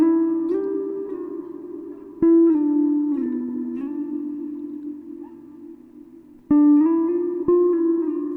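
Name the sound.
several electric guitar slides in a row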